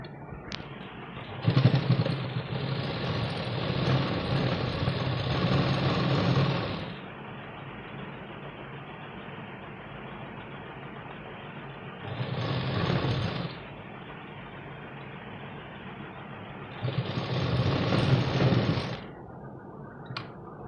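A sewing machine stitching a blouse runs in three separate bursts, a long one first and then two shorter ones, each a steady whirring hum with quieter pauses between them.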